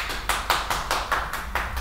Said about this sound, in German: Oh, Applaus.